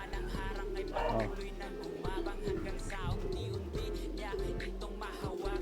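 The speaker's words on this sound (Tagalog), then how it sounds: "Ayun na siya mga kalapatid, bumababa na." Pigeons cooing close by in a soft, repeated murmur, with a low steady background hum and faint rustling as the birds move about.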